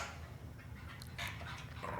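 A dog gives a few soft, short barks and whimpers at a distance, faint over quiet background noise.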